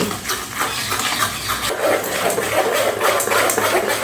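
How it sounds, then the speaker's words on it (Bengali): Eggs and sugar being whisked together in a bowl for homemade crispy biscuits, a steady scraping and tapping of whisk against the bowl that continues throughout at close range, with no talking. "এবারে এই ডিম আর চিনিটা খুব ভালো করে মিশিয়ে নিতে হবে"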